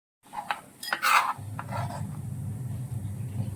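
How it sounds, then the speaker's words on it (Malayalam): A knife julienne-cuts cucumber for a mixed salad, a few quick close chopping taps on a board followed by softer scraping and rubbing, with no talk. "ഇങ്ങനെയാണ് ജൂലിയൻ കട്ട് ചെയ്യുന്നത് കേട്ടോ"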